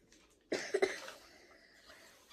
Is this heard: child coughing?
yes